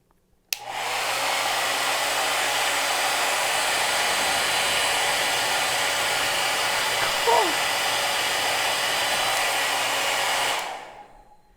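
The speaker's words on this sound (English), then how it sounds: "turn the hairdryer on so it's blowing steadily and strongly" A hairdryer switches on and blows steadily with a loud, even whoosh and motor whine for about ten seconds, then cuts off.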